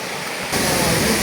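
Rushing water at ShainGong waterfall in Thanchi, Bandarban, a broad roaring wash that jumps sharply louder partway through and stays close and steady.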